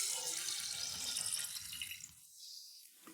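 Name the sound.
clean drinking water being poured into a jar for beet kvass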